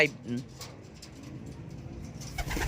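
Soft, low pigeon coos murmur close by amid shuffling and rustling, with a few faint chirps in the background.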